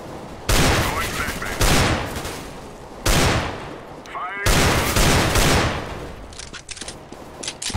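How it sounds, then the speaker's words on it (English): Bursts of automatic gunfire in a Counter-Strike: Global Offensive match fired through smoke, several loud close volleys separated by short gaps. "they're shooting me through smoke"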